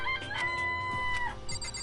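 Chickens in the Danganronpa video game give a brief run of sharp, clucking and crowing calls with tonal squawks, close and clear, with no speech.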